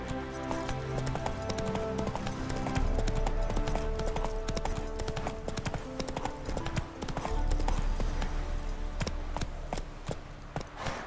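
Roach, the horse from The Witcher 3 video game, clip-clops along in a brisk, continuous run of hoofbeats, set under layered in-game music and ambience that swells and recedes.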